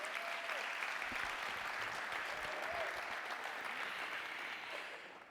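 Steady applause from an audience at an awards ceremony, even and sustained for several seconds, then fading slightly at the end.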